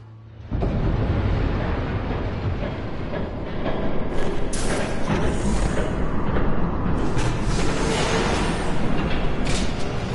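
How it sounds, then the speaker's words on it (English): A train approaches as a loud, continuous rumbling roar that swells slightly and holds steady for several seconds, with no voices. "There's a train coming."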